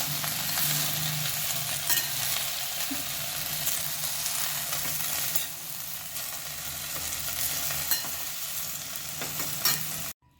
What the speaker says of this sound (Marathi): भाजी आपल्याला दोन मिनिट छान परतून घ्यायची आहे